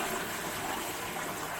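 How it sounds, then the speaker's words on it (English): A toilet flushes, giving a steady, loud rush of water throughout. "Ooh, that's a good flush."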